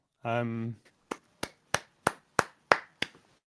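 After a short vocal sound, seven sharp single hand claps ring out one by one at a slow, steady pace. They sound close and stand alone against silence, applauding a music track.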